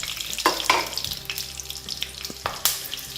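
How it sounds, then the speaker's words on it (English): Green chilies and salt hit hot oil for a Bengali doi maach fish curry, giving a close crackling sizzle with a few sharp spitting bursts and scrapes over a short span. No one speaks. "Now in this I will add a little bit of salt, green chilies, and let that saute in this."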